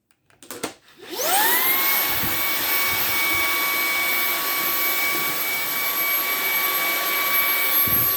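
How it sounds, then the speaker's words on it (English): A Ryobi 4-amp high-performance stick vacuum spins up after a few clicks and then runs with a steady, loud whine as it sucks up sawdust in a workshop, close and alone with no talk. "We're gonna see how well it sucks up the sawdust."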